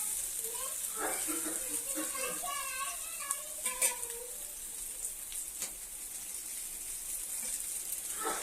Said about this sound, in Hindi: इस तरह से हमको अच्छी तरह से फ्राई कर लेना है।